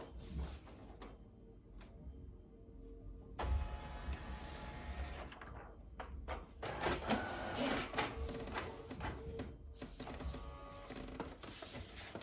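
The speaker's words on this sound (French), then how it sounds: "Mon imprimante est très lente." A slow home printer works through a page, its mechanism whirring, sliding and clunking in uneven stretches with brief pauses between.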